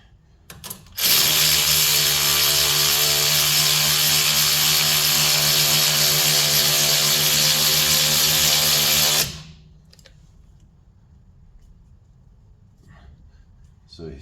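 Power tool tightening suspension lift bolts to squeeze the bushings on a 2011 Chevy Avalanche with a 7.5-inch lift, one long steady loud whir of about eight seconds, close up, then stopping abruptly into quiet shop ambience.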